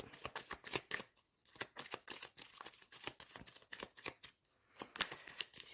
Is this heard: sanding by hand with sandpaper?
no